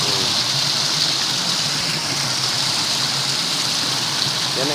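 Strong rainwater rushes nearby in a loud, constant roar with no break or change over several seconds.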